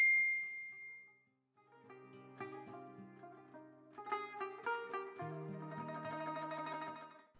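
A bright notification bell dings once at the start and rings out, followed after a short pause by light, melodic chiming tones that build up and continue to the end.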